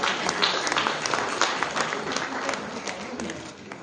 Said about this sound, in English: A big round of applause for the winner.